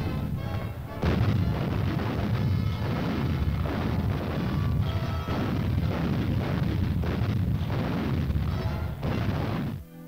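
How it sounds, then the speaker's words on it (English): Anti-aircraft artillery firing during practice on the open shores of Panama, a dense, continuous roar of heavy booming blasts that stays loud throughout, with a muffled, old-recording quality. "plenty of room on the wide open shores of Panama for anti-aircraft artillery practice"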